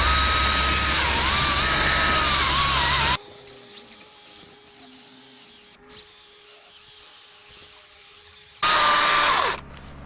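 A DeWALT electric chainsaw cuts through a heavy log with a loud, close, high-pitched whine whose tone dips under load, then goes quiet for several seconds before revving loudly again near the end.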